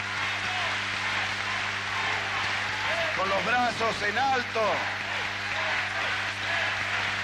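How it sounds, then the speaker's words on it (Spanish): A packed crowd gives a sustained, unbroken ovation at an official ceremony where the Santa Fe governor receives the baton of command; the dense roar runs throughout while a voice speaks over it. "saluda la ovación cerrada de todo el público reunido en este lugar"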